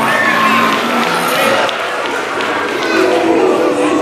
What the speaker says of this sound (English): Round of applause for our guys here. Let's hear it for them.